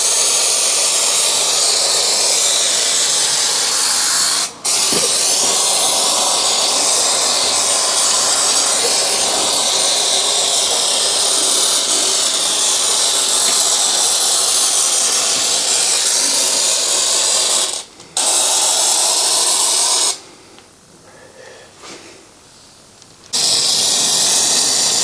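An aerosol spray can coating the brake lines and chassis of a Fiat Ducato motorhome van, hissing loudly and continuously with a few short breaks.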